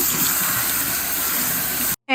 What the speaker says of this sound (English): Quinoa needs to be rinsed in order to remove a slightly bitter taste.